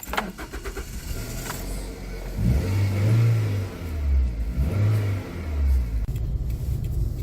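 A 2001 Toyota Avensis 1.8 CDX saloon drives along South London streets, its mid-pitched engine humming steadily and swelling as it accelerates, with road and cabin noise throughout and no talking.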